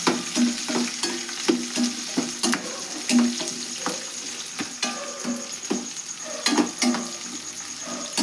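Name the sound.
frying chopped onions in oil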